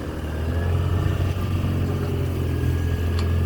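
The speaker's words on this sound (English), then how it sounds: "Gotta try and keep the engine from dying here." Low-speed boat engine entering Hatchet Bay between cliffs, with a tide and current pushing the boat, giving a steady close rumble that keeps running evenly with no voices over it.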